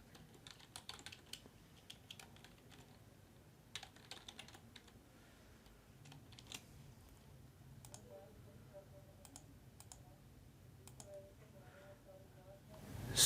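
Soft, quick taps on a computer keyboard come in short irregular bursts, with a few isolated clicks between them, faint and close with no voice over them.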